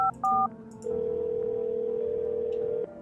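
Telephone keypad dialing tones in the video game No, I'm Not a Human: two short beeps, then a long steady tone lasting about two seconds, clean and close with no talking.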